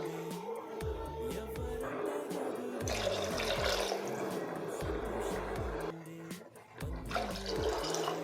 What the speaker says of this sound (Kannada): ನಾನು 3 ಗ್ಲಾಸ್ನ ವಾಟರ್ ಹಾಕ್ಕೊತಾ ಇದ್ದೀನಿ.